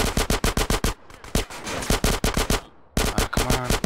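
Rapid bursts of MP4 submachine gun fire in GTA San Andreas, loud evenly spaced shots in quick strings separated by short pauses, with a softer rumbling stretch in between.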